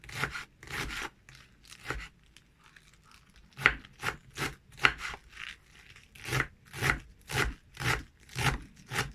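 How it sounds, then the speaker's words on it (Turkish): A knife finely chops chard leaves on a board in steady, crisp strokes, a short pause early on, then a quicker even rhythm. No one speaks. "Şöyle ince ince pazılarımızı doğrayalım."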